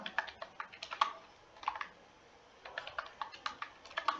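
Quick bursts of typing on a computer keyboard, crisp clicking keystrokes in short runs with brief pauses, close and fairly quiet, no talk.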